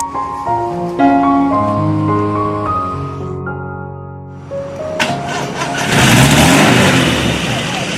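A car engine turns over and starts, then revs and rolls as the car pulls aside on a roadside; tonal whines give way to broadband engine and road noise, with people talking nearby.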